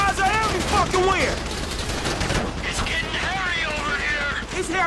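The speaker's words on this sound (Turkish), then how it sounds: "Silah seslerini dinle dedi." Gunfire in the video game GTA 5 rattles in dense, continuous bursts throughout, with someone talking loudly over the shooting.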